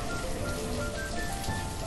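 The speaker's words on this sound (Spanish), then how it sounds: "siempre el sonido de la lluvia me despista un montonaco" Rain in the Banished city-building game patters as a dense, steady hiss of drops on surfaces, even and continuous with no voices.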